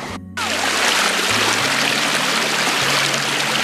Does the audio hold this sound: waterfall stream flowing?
yes